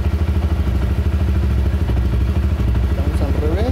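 A motorcycle with a drained battery is started with a jump starter; the engine catches and runs with a rapid, steady chugging idle, close and loud, with some rattling toward the end.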